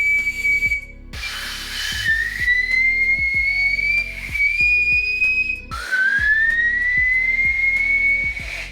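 Loud, shrill whistles sound in a row, including a safety whistle, each a long piercing tone that rises slightly in pitch, with brief breathy gaps between blasts.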